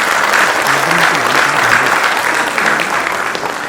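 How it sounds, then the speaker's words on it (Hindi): A theatre audience at a school foundation-day play applauds steadily and loudly to welcome the actors, a dense continuous wash of clapping that tapers slightly toward the end. "जोरदार तालियों से स्वागत कीजिए"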